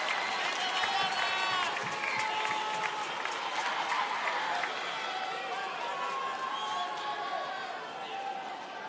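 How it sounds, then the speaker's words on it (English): A crowd at a cheerleading competition yells and cheers along with a team's routine, a dense sustained roar of voices and applause that holds loud throughout and eases slightly at the end. "Crowd is definitely yelling along with them."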